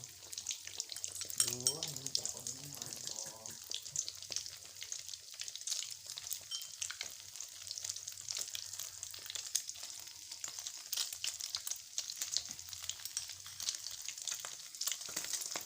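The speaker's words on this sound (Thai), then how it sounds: "ทอดตอนน้ำมันยังไม่ร้อนเท่าไหร่แบบนี้ทอดไข่เจียว" Egg-dipped Thai steamed rice cakes (khanom khiao) frying in oil that is not yet very hot, a continuous crackling sizzle with small pops; a brief voice-like tonal sound appears early.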